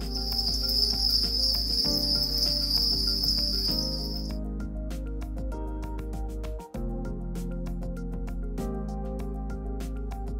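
Crickets at a cricket farm raised for food, with a steady high-pitched chirring drone for the first four seconds, then a dense layer of scattered clicks and low rumble continuing throughout.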